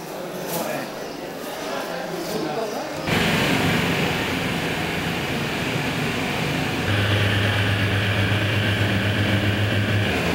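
Domestic airliner taking off toward the Himalayas, a loud steady engine roar that swells abruptly and then holds, with a low drone joining later.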